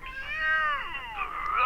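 A cat in the D4: Dark Dreams Don't Die video game lets out a long, drawn-out meow that bends down in pitch, then a shorter rising cry, close and fairly loud with no talking.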